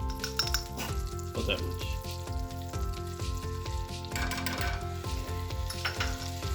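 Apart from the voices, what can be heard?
garlic sizzling in hot oil and melted butter in a pan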